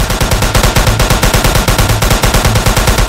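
Rapid, loud automatic gunfire in the Roblox game, a fast regular string of shots running throughout, close and continuous.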